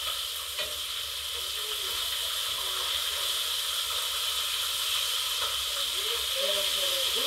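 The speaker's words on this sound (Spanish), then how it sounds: "Aquí se está quedando nuestro pollo frito." Chicken pieces fry in hot oil, a loud, constant crackling sizzle that fills the whole stretch close up, with a faint voice briefly audible beneath it.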